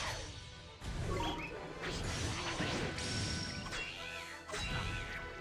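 Heavy smashing impacts from a battle against the Adamantiger in Ni No Kuni: Wrath of the White Witch, several loud crashes and whooshes piling up over dense, continuous game effects.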